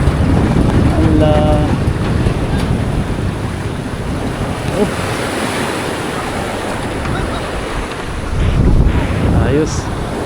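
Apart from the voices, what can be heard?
big sea waves at Tanza, Cavite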